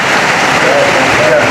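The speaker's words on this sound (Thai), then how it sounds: "ฝนตกอีกแล้วพี่น้องเลย" Steady rain falling and hissing on surfaces, a dense wash of drops close by, with a voice speaking over part of it.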